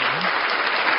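A burst of enthusiastic applause, dense clapping from a crowd, loud and continuous.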